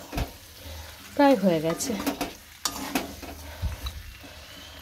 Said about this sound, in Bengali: আর এদিকে আমার মাংস রান্নাও প্রায় কমপ্লিট